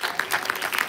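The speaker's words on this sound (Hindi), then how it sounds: "जिनके लिए जोरदार तालियां" Brief burst of audience applause for teachers at a school Hindi comic poetry competition, a handful of distinct claps in quick irregular rhythm, fairly close and moderately loud, cut short after about a second.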